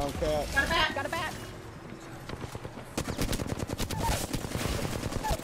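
Rapid automatic gunfire in the shooter game Apex Legends crackles in dense bursts with scattered single shots, fairly loud, while a player talks over it.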